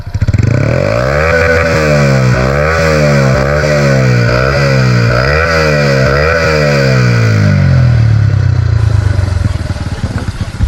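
A motorcycle fitted with a Chan Speed exhaust and tofu cam revs hard and close, rising and falling in rapid repeated blips before settling into a lower, rougher idle.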